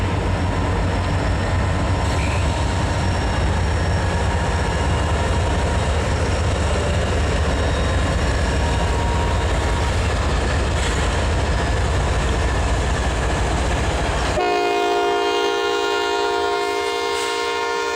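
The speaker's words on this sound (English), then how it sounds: "waiting for an empty CXX coal train to head north" An empty coal train led by two W&LE SD40-3 locomotives and two ES44 units rumbles past steadily and loudly, then a long multi-tone horn blast sounds near the end.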